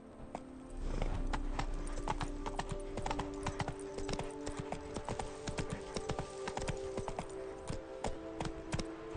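Horse hooves pound in a steady galloping clip-clop across open ground in The Witcher 3, close and continuous with faint game ambience beneath.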